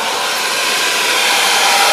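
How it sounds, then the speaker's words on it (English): A hairdryer blows steadily and loudly at close range, heating car decals on a Honda FN2 so they can be peeled off. No voices are heard. "we're going to heat them up with the old Mrs's hairdryer"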